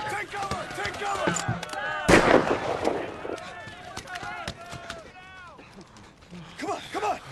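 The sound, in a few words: sniper gunfire in Band of Brothers war scene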